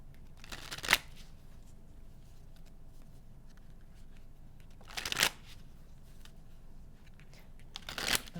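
Oracle cards being shuffled in three short, crisp riffling bursts separated by long quiet gaps, close and clear with no talking.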